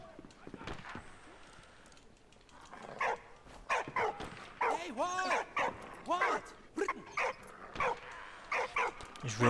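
Dog in the video game Soldats inconnus: Mémoires de la Grande Guerre barks in a quick series of sharp, close yips and woofs, one after another, with quieter game sounds before them.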